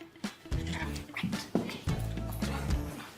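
A dog nearby gives a few short vocal sounds at an indoor tech event, close and moderately loud, mixed with people talking in the room.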